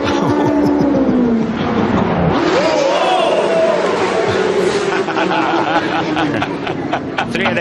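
Aprilia superstock 1000 motorcycle at a British Superstock race, engine wrung out and revving hard near the track amid other bikes, with crowd noise and a commentator talking over it.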